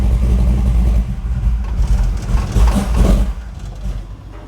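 Truck engine on an Edelbrock VRS 4150 carburetor runs inside a garage, a loud steady idle with a brief rev that swells and then settles back, no talk over it.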